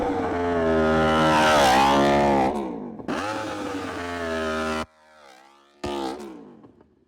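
A Yamaha R1M or Aprilia RSV4 superbike doing a launch-control start, the engine held at a loud, steady high-rpm roar, then a second burst that cuts off abruptly, followed by a brief quieter rev.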